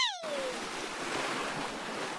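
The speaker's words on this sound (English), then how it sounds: "Peppa and Rohan make waves as they slide into the mermaid splash pool." Cartoon splash as a character slides into a mermaid splash pool aboard a cruise ship, opening with a descending whistle-like slide tone, then a loud, sustained rush of churning water.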